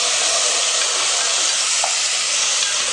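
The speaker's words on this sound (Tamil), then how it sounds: "வெங்காயம் வதங்கட்டும்." Onions sauté in a pan for a spicy chicken curry, giving a steady, close, loud sizzle with faint stirring throughout and no talking.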